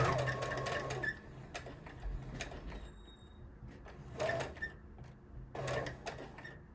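A sewing machine stitches tote bag lining in short runs of rapid, even needle clatter, stopping and starting between bursts, quiet and close with no speech.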